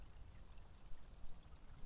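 A small waterfall at a house pours and splashes continuously, a steady close wash of falling water with slight fluctuations and no talking.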